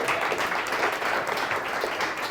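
Steady, dense applause from a crowd, many hands clapping at once without a break, fairly loud and close.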